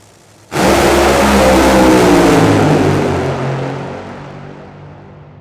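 Two nitro drag racing cars launch off the line with a sudden, very loud roar that holds for a few seconds and then slowly fades as they pull away.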